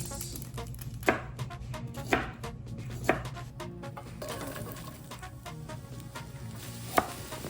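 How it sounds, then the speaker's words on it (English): A knife chops ginger on a cutting board in a home kitchen, with sharp, separate chops at roughly one-second intervals over a steady low background hum. "I'm chopping up some ginger."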